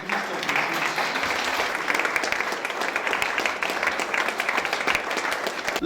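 A church congregation claps for Jesus Christ during a Spanish-language sermon, with dense, sustained applause filling the room at an even, loud level for several seconds and no talk over it.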